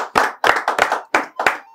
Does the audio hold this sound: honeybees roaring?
no